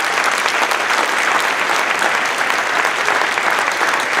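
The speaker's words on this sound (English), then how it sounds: "a big round of applause for all of them" Steady, dense applause from a large crowd at a high school winter concert, loud and sustained throughout with no pauses.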